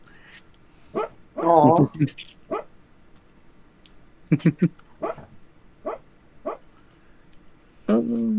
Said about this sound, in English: No, Toby's sleep barking.